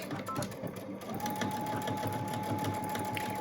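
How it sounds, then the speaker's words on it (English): Sewing machine stitching about an eighth of an inch from the outer edge of a surgical mask, a steady close mechanical whir with a rapid needle rhythm running continuously throughout. "we're going to sew very close to the edge, about 1/8 inch away from the entire outside edge."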